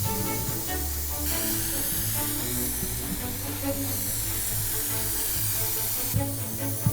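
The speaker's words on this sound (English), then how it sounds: "glue it using a rubber spray adhesive I found in store" Rubber spray adhesive sprays steadily from a can onto film and fabric, a continuous close hiss that never lets up, laid over background music.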